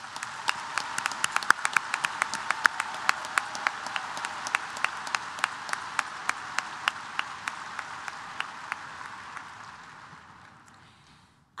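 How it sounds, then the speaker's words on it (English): An audience at a new student convocation applauds with a steady wash of clapping and a few sharp, close individual claps standing out, gradually fading away toward the end. "Let's give them a round of applause."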